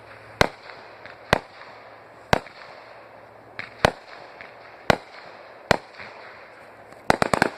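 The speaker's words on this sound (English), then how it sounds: "fireworks!" Fireworks burst outdoors in sharp, loud cracks at irregular intervals, about seven single bangs followed by a quick cluster of pops at the end, over a quiet background with no talking.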